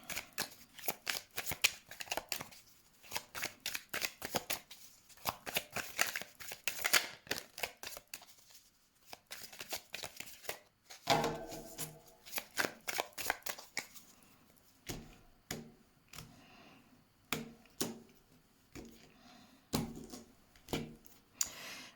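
Tarot cards shuffled by hand before a card draw: close, brisk papery riffles and slaps in repeated bursts with short pauses, no talking.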